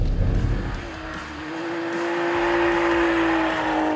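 A BMW X3 M with all-wheel drive and a limited-slip differential oversteers, its engine roaring loud and close while a sustained tire squeal rises and holds, with no talking.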